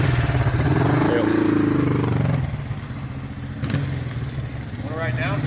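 A 1972 Honda CL350K4 Scrambler with high pipes revs loudly and pulls away, its engine note fading and then swelling again as it returns, with a person talking briefly over the sound.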